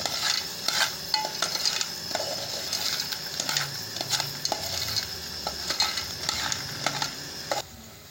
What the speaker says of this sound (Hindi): या आपने इसको ऐसे हिलाते रहना है बस चम्मच से ऐसे।